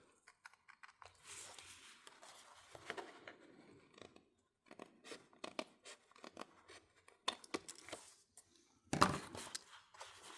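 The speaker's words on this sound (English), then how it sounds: "Let's cut these extra little bit off." Scissors snip through the edge of a sketch's paper in bursts of crisp close cuts separated by quiet pauses, with a sharp final snip near the end.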